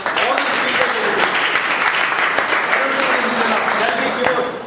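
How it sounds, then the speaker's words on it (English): At a speaking event, a roomful of people applauds the day's speakers in steady, even clapping that carries on for several seconds at a loud, constant level before easing slightly at the end. "let's give a round of applause to all the speakers of the day"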